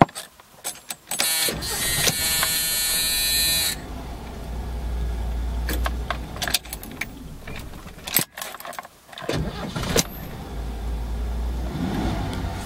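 A one-owner 1982 Ford Granada station wagon cranks briefly with a whirring starter, then fires and settles into a steady low idle, with keys jangling and a chime buzzing up close inside the car.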